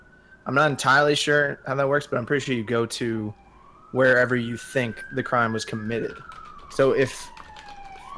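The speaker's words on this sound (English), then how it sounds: "sorry for the sirens." Sirens pass outside, a steady wailing tone that rises and falls in pitch and runs continuously beneath someone talking in a podcast.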